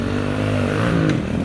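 A pit bike motorcycle ridden around a backyard dirt track, a loud, close, steady engine drone with a brief rise in pitch near the end.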